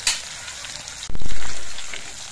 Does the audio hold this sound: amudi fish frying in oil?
yes